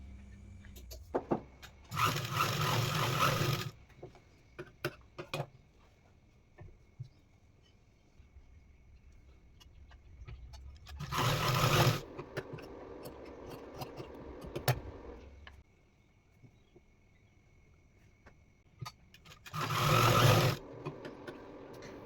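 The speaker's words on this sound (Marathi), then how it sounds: "तिरक्या बाजूवरती तिरकी बाजू ठेवायची आहे आणि वरून शिलाई मारून घ्यायची आहे" An electric sewing machine stitches cloth for a chapati wrap in three separate runs of a few seconds each. Each run is a whirring buzz, and quiet handling of the fabric fills the gaps between them.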